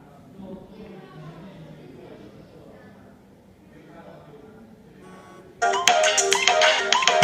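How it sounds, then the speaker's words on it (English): The Gosh!LinkFone phone app plays its incoming-call ringtone, which bursts in loudly near the end after a stretch of quiet talking, bright and melodic. "the incoming call UI and the selected ringtone is playing"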